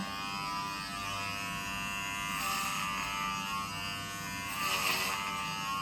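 Electric hair clippers buzz steadily and close up while cutting a one-inch buzz cut, the droning hum swelling slightly as the blades pass through hair.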